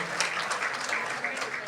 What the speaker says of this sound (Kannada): ಜೋರಾಗಿ ಚಪ್ಪಾಳೆ ಮೂಲಕ ಕಾರ್ಯಕ್ರಮಕ್ಕೆ